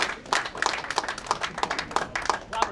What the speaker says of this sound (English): give a round of applause for Aydin